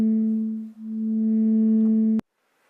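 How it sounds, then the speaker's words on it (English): Steady sine wave tones with a low fundamental and a few faint upper partials, sustained for about two seconds with a brief dip in loudness, then cut off abruptly into near silence. "But sine waves are simple sounds"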